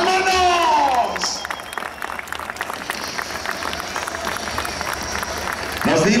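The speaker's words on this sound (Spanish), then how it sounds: "que se oiga el aplauso" Applause and cheering rise from a crowd in the Monumental bullring at Morelia, Michoacán, a broad wash of clapping and whoops, with a voice talking over it at the start and again at the end.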